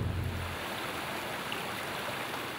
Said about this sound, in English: You know, people see waterfalls all the time, but it's not very typical that you see one that comes right out of the mountains.